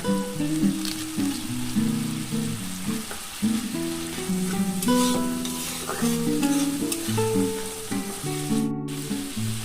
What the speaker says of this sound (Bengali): মশলাটা আমার বেশ কষানো হয়ে গেছে